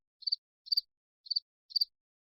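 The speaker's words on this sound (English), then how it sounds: "Crickets." A crickets sound effect from an audio stream sound mixer plays four short, high double chirps in an even rhythm, clean and isolated against silence.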